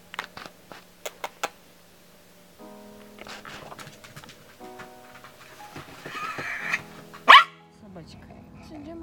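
A dog barks several times in short sharp yaps, mixed with household clatter and a voice speaking nearby.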